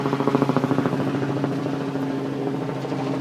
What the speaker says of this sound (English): Helicopter's flying directly over again.